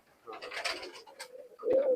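A pair of golden Pakistani pigeons coos nearby: a rough, murmuring stretch, then a louder, clear rolling coo near the end.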